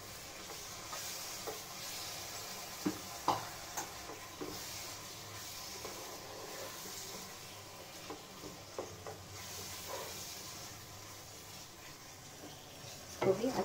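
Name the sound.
tomatoes added to sizzling pan and stirred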